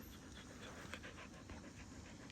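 A puppy named Mojo pants quickly and steadily at close range, soft rhythmic breaths over a quiet campsite background by Lake Superior.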